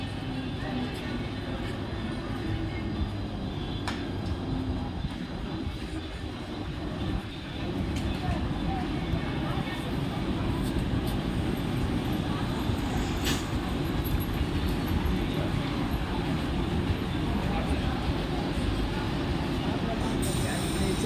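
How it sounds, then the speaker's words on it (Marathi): A Mumbai local train stands at a station platform, its steady low rumble and hum continuous throughout amid broad station noise, with faint voices and a public-address announcement running beneath. "प्लॅटफॉर्म क्रमांक 3 पर आई हुई लोकल 10:37 की बदलापुर जाने वाली तेज लोकल है"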